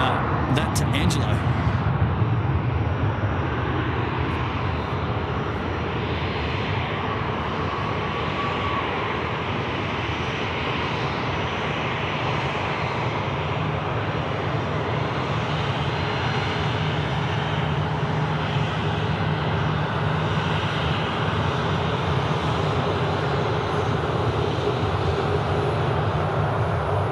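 Emirates jet airliner at Sydney Airport at night, a loud, steady engine roar that holds for nearly half a minute close by, with people talking over it.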